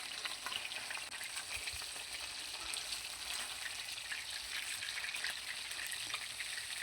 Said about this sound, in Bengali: তো তারপরে মাছগুলোকে ভাজার জন্য তেলের মধ্যে দিয়ে দিলাম।